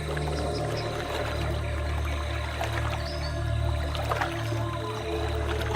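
Male alligator in open water making low, steady vibrations that set the surface dancing, a continuous deep rumble with trickling water sounds layered on top.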